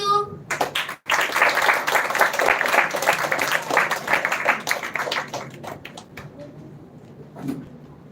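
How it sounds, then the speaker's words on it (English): Audience applause after a child's performance at a children's literature festival, a sustained burst of clapping that swells, holds for several seconds, then fades to scattered claps. "Please give her a big round of applause."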